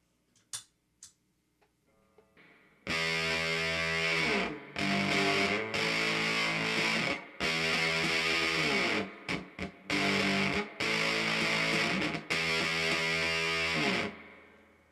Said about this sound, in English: That's a lot of distortion.